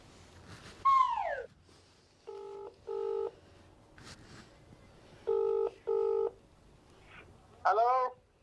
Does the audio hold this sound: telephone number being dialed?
yes